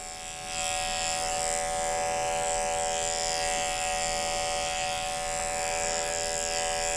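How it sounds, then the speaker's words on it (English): Electric clipper running steadily on a small Shih Tzu during grooming, a close, continuous buzzing hum that starts within the first second and holds at an even level throughout. "just get the clipper in my left hand"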